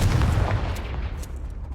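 A Confringo blasting spell explodes in the Hogwarts Legacy video game, a deep booming impact that rumbles loudly and then fades over a second or so, with no voices.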